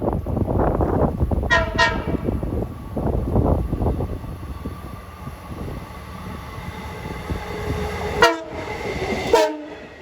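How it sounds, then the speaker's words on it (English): A diesel train on the non-electrified Port Jefferson Branch near Northport rumbles past with a heavy, clattering roar that eases off, then sounds two short, restrained horn blasts near the end, fairly close and loud. "Rather meek horn blowing."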